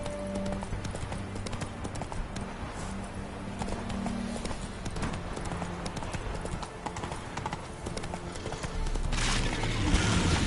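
Roach the horse galloping in The Witcher 3, steady rhythmic hoofbeats clopping close and loud throughout, with a brief whinny and a voice speaking over the gallop.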